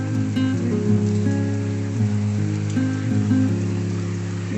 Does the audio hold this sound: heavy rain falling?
yes